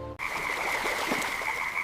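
Dense chorus of frogs croaking from a river, a steady buzzing wall of calls with a strong sustained drone and scattered individual croaks, continuous and fairly loud.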